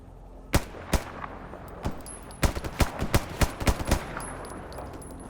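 Gunfire from the player's new gun in the video game S.T.A.L.K.E.R., fired from a high bridge at a distant bandit base: sharp, loud single shots at first, then a quicker irregular burst of about a dozen cracks.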